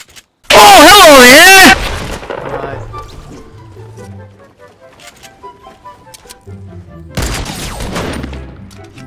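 A newly acquired video game gun fires a short, loud, dense burst near the start, followed by scattered lighter effects, then a second sustained burst of fire toward the end.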